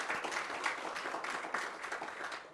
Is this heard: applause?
yes